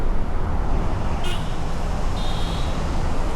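An HRTC bus overtakes on a highway between Chandigarh and Delhi: a loud, steady rush of road and engine noise fills the clip, with a brief horn-like tone partway through and a longer one after it.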